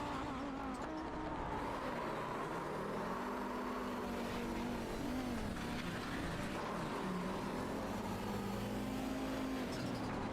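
A race car engine drones continuously from an onboard position in an iRacing sim race at Virginia International Raceway, pitch rising and falling with throttle through corners, loud and unbroken.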